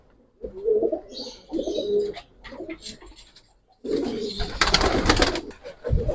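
Old-breed Giribaj pigeons coo in a loft, soft repeated calls in short bursts with a louder flurry of movement and chirps near the end.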